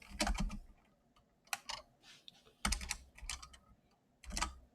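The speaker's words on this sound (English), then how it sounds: "I'm typing random things on my keyboard." Fingers type on a computer keyboard during a coding session, irregular bursts of clacky keystrokes separated by short pauses, close and fairly quiet, with no talking.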